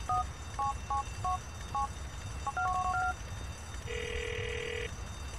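Phone dialing in the video game GTA IV: a quick run of DTMF keypad tones in short irregular bursts, followed by a single longer ringback-style tone, clear and alone.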